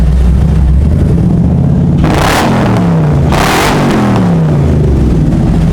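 A built LS1 V8 with a big cam and built heads, in a T-top car on a dyno, idles with a lumpy, choppy lope, then barks through two sharp, loud rev bursts that fall back to that uneven idle.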